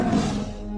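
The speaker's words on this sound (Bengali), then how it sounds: "ওই দেখো, বাঘ ডাকছে এবার।" A tiger in the Sundarbans mangrove jungle gives a short, loud, rough roar that swells and trails off, heard alone without talk.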